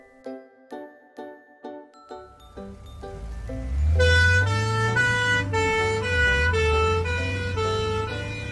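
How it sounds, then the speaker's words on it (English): A toy ambulance plays a few short electronic beeps, then a loud, bright looping siren melody, close and alone. "Ambulance."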